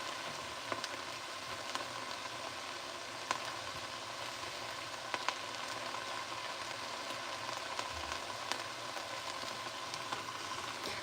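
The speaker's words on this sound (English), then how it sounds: "I'm going to let them caramelize, because this is going to add a lot of flavor to the potato tacos" Yellow onions sizzle and fry in a pan on their way to caramelizing, giving a steady, even crackle with faint occasional pops and no talking.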